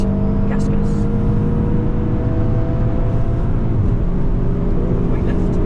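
A car accelerates hard on the Nürburgring track, a loud steady engine drone heard from close inside the cabin, with a person talking over it.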